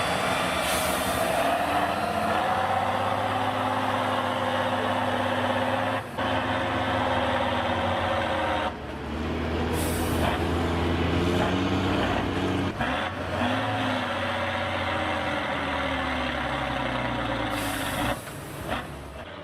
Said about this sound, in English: With an 8x8 wheel system, TATRA 813 is able to easily overcome sand pits.